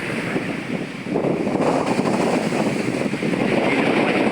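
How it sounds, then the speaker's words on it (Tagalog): Large Pacific waves rolling onto a beach at Dingalan, Aurora, a loud continuous roar of surf mixed with wind buffeting the microphone, swelling slightly partway through. "Hindi kalakasan ng hangin pero malalaki ang alon dahil Pacific side na ito"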